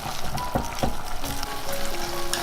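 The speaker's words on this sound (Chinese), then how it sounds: "把切好的姜蒜跟青红椒放进来炒香。" Ginger, garlic and green and red peppers stir-fried in hot oil in a wok, giving a steady close sizzle with a few sharp scraping stir strokes, no talking.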